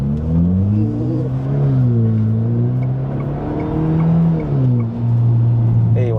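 A GS3 Emzoom car pulls away under part throttle. Its engine drones steadily from close inside the cabin, and the pitch climbs and dips through gear changes as it accelerates.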